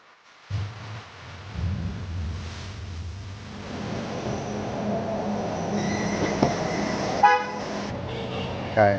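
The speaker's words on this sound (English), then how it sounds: "Here is a truck. That is not petrol, as you can hear." An electric truck rolls past outdoors in China with a low, quiet electric hum and tire noise, no engine rumble, as traffic sounds build gradually; a brief horn-like tone sounds near the end.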